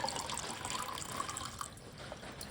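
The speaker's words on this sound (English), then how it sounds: "And we'll fill it up with some new water." Fresh water runs into a container of soaking unpasteurized almond seeds, a steady close splashing trickle with no voices.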